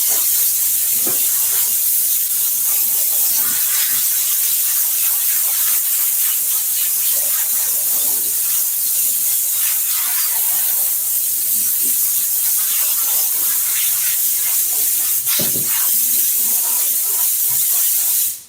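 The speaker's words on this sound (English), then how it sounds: "Blow a little air on it. Speeds up the drying process." Compressed air hisses steadily and loudly over a glued Polaris seat, with a continuous spray-like rush that runs almost the whole time, broken by small clicks and a brief knock near the end.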